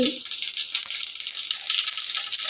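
Dense, crackling sizzle of mustard seeds popping in hot coconut oil, a continuous bright spattering with tiny irregular pops, close by.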